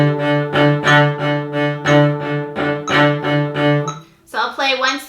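Repeated bowed strokes on a cello's open string move in triplet rhythm, one low pitch pulsing in groups of three, close and full, before a person starts talking.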